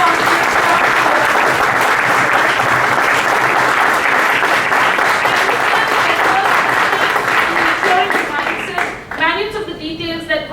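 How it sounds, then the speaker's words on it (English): Loud, dense applause from a large audience at a supply chain and operations conclave, steady for about nine seconds before fading as a voice starts speaking. "A huge round of applause for the conclave committee conducting all conclave staff."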